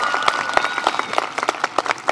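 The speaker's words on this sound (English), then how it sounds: "Give it another clap around for Faith." Graduation audience applauding in a large hall, brisk loud clapping from a crowd with distinct individual claps standing out in an uneven rhythm.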